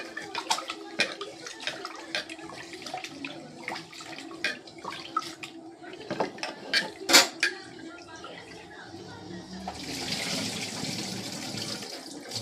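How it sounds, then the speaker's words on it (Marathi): Indrayani rice being washed in water in a pot, with scattered clinks and swishes of grains and water, then running water near the end. "पहिले तांदळाला चांगले धुवून घेते."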